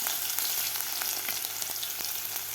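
Mustard seeds, green chili and grated garlic frying in hot oil, a steady close crackling sizzle with sharp pops scattered throughout and no voices.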